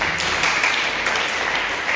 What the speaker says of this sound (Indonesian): Tepuk tangan Tuhan Yesus.